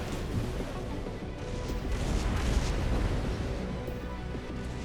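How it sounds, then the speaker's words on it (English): Dense, booming weapon blasts and heavy impacts from shotgun-armed mechs in an Armored Core VI 1v1 tournament match, a continuous loud barrage of overlapping explosions. "Those shotguns are no joke."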